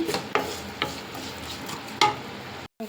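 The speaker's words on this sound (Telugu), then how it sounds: "కొంచెం మనకి ఆనియన్స్ మెత్తబడేంత వరకు ఫ్రై చేసుకుందాము" Onions and curry leaves frying in a pan, a steady close sizzle broken by several stirring scrapes and clinks, then a brief drop to silence near the end.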